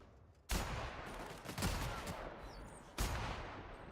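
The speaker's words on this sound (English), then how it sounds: "Oh, let's try out the sniper." Three heavy sniper rifle shots in The Outer Worlds, each a loud close crack with a long echoing tail, spaced about a second apart and then a longer gap, with no talking.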